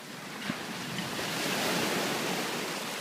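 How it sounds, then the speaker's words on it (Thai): Strong sea waves wash up on a beach in a steady, broad roar of surf that swells slightly midway, with wind buffeting the microphone and no voices. "นี่คือท้องทะเลที่ ขึ้นมาสุดติ่งเลย"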